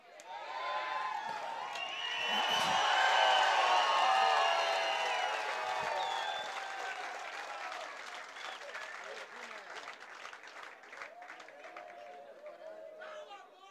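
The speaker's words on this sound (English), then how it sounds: "Let's give them a warm round of applause." A crowd claps and cheers loudly at a bodybuilding competition weigh-in, swelling in the first seconds then gradually thinning out, with voices chattering beneath the applause.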